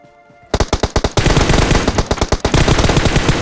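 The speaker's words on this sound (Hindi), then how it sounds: "ये दूसरा बंदा यहाँ पे M4 का स्प्रे दे रहा है।" In PUBG Mobile an M4 rifle sprays loud, close automatic fire, opening with a fast burst of evenly spaced shots and then a dense continuous volley with no voices.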